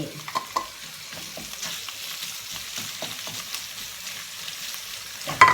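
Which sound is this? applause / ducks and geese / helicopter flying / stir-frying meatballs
stir-frying meatballs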